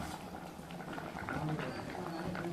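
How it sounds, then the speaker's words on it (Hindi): Dal, spinach and chickpea greens boil in a pot, giving a steady, close bubbling and simmering hiss that continues throughout, with faint voices in the background. "ये सारी चीज़ें कि मैं उबाल कर तैयार करने लग रही हूँ"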